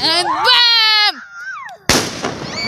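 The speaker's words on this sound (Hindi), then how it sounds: "ये जल गया पटाखा और हो गया धमाका" A loud firecracker blast bursts in suddenly near the end, following shouting and whistling sounds, then a noisy wash of crackle as it fades, during a Khatu Shyam Ji birthday celebration.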